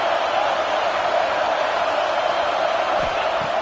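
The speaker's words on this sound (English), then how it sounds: "listen to this crowd noise. This stadium is vibrating" A packed stadium crowd at an OU vs LSU college football game roars as a dense, steady wash of noise with no breaks, loud and continuous throughout.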